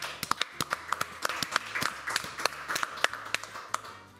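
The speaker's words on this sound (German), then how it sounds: "Applaus für dich, dass du Bock hast." Studio audience applause on a live German TV-style show, heard as a scattered run of sharp, fairly close claps with an uneven rhythm, moderately loud and with no voices over it.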